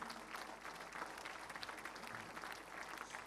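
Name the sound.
audience applauding the volunteers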